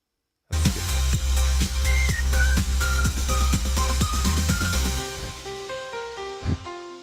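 A whistled melody in an AI-generated song, clear tuneful phrases carried over a steady beat of rhythmic percussion and bass, with the music thinning toward the end.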